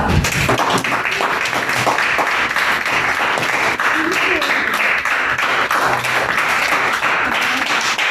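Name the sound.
audience round of applause at club meeting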